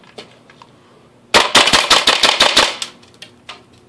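Airsoft G36 rifle shooting BBs on full auto: a single close burst of about a dozen sharp, evenly spaced snapping shots lasting just over a second, with a few faint clicks before and after.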